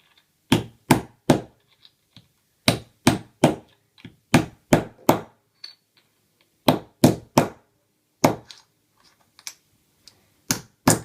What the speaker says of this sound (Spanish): Yo tengo este martillo para poner ojales